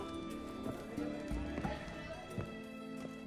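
Horse hooves clip-clop at a trot beneath a steady hum and faint voices in The Witcher 3: Hearts of Stone, irregular thuds that stay moderately close.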